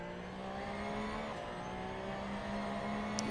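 A race car engine at full throttle in Assetto Corsa on the Imola circuit, a loud, steady high-pitched drone that holds without a break, with no talking.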